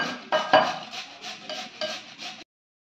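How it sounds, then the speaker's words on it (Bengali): A boiled potato is rubbed against a hand grater in about eight quick, rhythmic rasping strokes, close and moderately loud, before stopping abruptly. "এবার আমি এই কুড়ুনি দিয়ে আলুটা আর ডিমটা কুড়ে নেবো"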